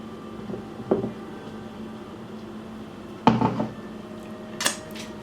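A spoon works through a bowl of thick homemade peanut butter, giving a few scattered scrapes and knocks against the bowl over low room noise, with no talking.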